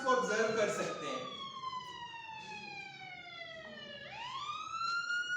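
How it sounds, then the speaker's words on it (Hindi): An electronic siren holds a long, steadily falling tone, then jumps back up and slides again, fairly faint, with a voice talking briefly at the start. "मेरे पास यहां पे एक साउंड क्लिप है जो कि सायरन की फॉर्म में है।"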